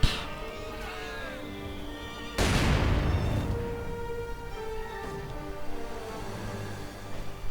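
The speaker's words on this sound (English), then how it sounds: "Mortar rounds flying everywhere" Mortar rounds firing and exploding in a strategy war game: one loud boom, then a rumbling tail and scattered distant impacts under battlefield noise.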